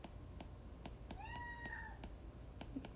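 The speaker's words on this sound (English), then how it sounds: "Cats again." A cat gives one drawn-out meow lasting under a second, fairly clear over a steady background hiss with faint regular ticking; no speech.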